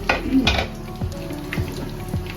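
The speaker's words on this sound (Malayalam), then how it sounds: "അപ്പൊ കുറച്ച് നെയ്യ് ഒഴിച്ചു കൊടുക്കാം." Ghee poured into a pan for ghee rice, making a soft sizzle with a few clattering metal knocks of pan and utensil close by, with no talk.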